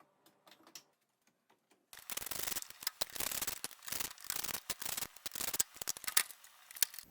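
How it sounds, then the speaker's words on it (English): Oven knobs being pulled off and face plate screws being unscrewed on an LG oven control panel, a few faint clicks, then dense close scraping, rubbing and rattling handling noises. "So I'm going to pull these knobs off, take out these screws and any other screws in there"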